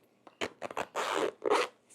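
The zipper on an Ultimaxx camera bag is pulled in several quick, rasping strokes, short bursts followed by longer drags, close up and with no talking.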